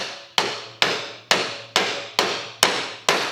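Seven sharp metallic hammer taps at a steady rhythm, seating a front suspension part on a 1968 Chevelle Nomad, each ringing briefly before the next, close and loud with no talking.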